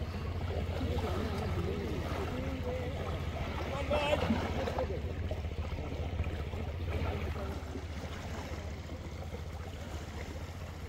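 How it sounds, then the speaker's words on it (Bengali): Sea waves roar steadily at Tarua beach on Dhal Char island, a continuous low rumbling wash of surf with a slight swell in the middle, heard without talk. "সমুদ্রের যে পানির গর্জনটা সেটা খুব সুন্দরভাবে শুনতে পাচ্ছি"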